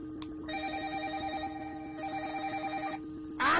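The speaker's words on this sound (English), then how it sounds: "I heard a phone ring and I didn't realize it was mine." A mobile phone rings with a repeating electronic ringtone, a steady warbling pattern in two bursts, moderately loud and close, with no talking over it.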